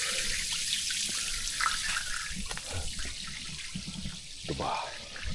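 Waste water from washing up draining out of a camper van, a steady splashing gush that runs continuously with faint background noise.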